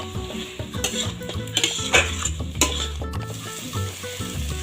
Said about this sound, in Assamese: আৰু আলুখিনি এড কৰি উঠি মই এনেদৰে ভালদৰে লৰাই দিছোঁ।